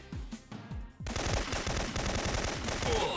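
Rapid automatic gunfire from the video game Syphon Filter during a mission: dense bursts of shots that erupt after a brief quieter lead-in and then hammer on continuously and loudly.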